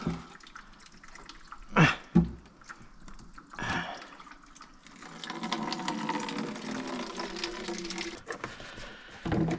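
Antifreeze drips and splatters from a CAT C13 engine, a close, irregular patter of liquid with a couple of sharper splashes and a steadier trickle in the middle.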